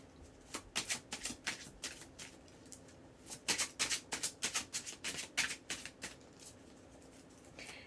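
Tarot cards being shuffled by hand in bursts of crisp riffling and flicking patter, close and fairly quiet, with a short pause before a second longer run of shuffles.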